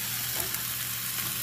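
Potatoes seasoned with garlic powder, salt and pepper frying in a pan give off a steady, even sizzling hiss without pause.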